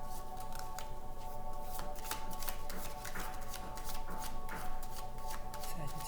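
Tarot cards are shuffled close up in a continuous run of crisp riffling and flicking, with soft slaps and rustles repeating steadily throughout.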